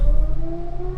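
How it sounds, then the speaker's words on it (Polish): An air-raid civil defense siren wails steadily at night, a loud continuous tone with slowly drifting pitch over a low rumbling background, with no talk. "To jest syrena, stary, przeciwlotnicza albo coś."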